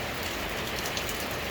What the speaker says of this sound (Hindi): बारिश लगातार बरसती जा रही है।